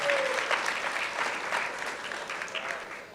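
An indoor audience at a business financing panel forum claps in a dense, sustained burst of applause that fades slightly toward the end, with faint voices mixed in.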